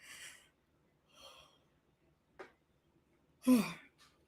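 A tired person lets out breathy sighs and exhales, ending in one loud, drawn-out yawn with a voiced, groaning tone near the end, close and alone in a quiet room.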